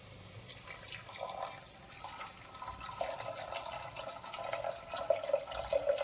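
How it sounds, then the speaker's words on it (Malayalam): Water is poured into a pot of chickpeas and spice mixture for a curry, making a faint, steady trickle and gurgle that rises slightly toward the end. "കടലയ്ക്ക് വേവാൻ ആവശ്യമായിട്ടുള്ള വെള്ളം ഒഴിക്കണം"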